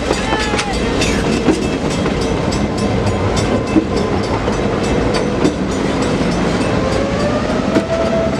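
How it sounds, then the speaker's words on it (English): A Great Smoky Mountains Railroad train rolls through the Nantahala Gorge beside the river, its wheels giving a continuous rumbling clatter with rhythmic clicks over the rail joints and faint squeals, close and steady throughout. "you can get beautiful shots of the train passing through the gorge and the river"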